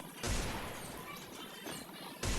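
Rapid gunfire bursts from the mobile shooter game Free Fire, loud and dense, with a sharp burst opening the clip and another near the end over a continuous noisy game mix.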